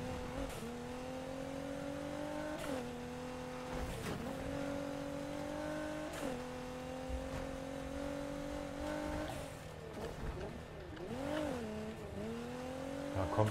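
A car engine drives and revs hard in the racing game Need for Speed Heat, a close, continuous high-revving drone that climbs in pitch and drops at each gear shift, with a brief surge and wobble near the end and no voices.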